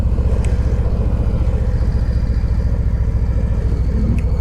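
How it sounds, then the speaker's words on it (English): A 2020 Harley-Davidson Low Rider thumps along on the road, its V-twin engine rumbling in a steady, loud low pulse with constant wind and road noise, no voices over it. "So this is actually my first time riding a new Lowrider"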